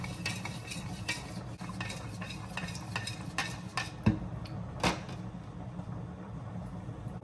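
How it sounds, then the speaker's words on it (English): A spoon stirs a corn starch mixture in a cup, with repeated light clinks and scraping strokes against the sides, close and steady, alone without talk. "Now I'm gonna go ahead and mix it all together"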